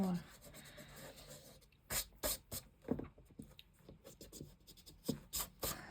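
An eraser rubs out pencil marks on paper with soft, close, scratchy strokes in short irregular bursts, faint and dry, with no talk.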